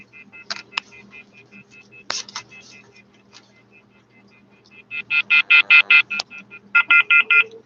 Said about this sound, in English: That is the one problem with cordless phones. They don't generally have a keypad lock.